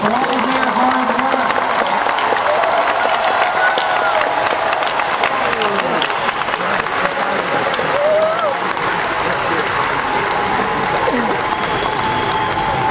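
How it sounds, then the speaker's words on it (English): Big-arena applause for Junior FIRST Lego League teams at the 2015 FIRST World Championship closing ceremony, a dense continuous roar of clapping from a large crowd with occasional faint voices and cheers mixed in. "let's give our Junior FIRST Lego League teams a huge round of applause for all of their hard work."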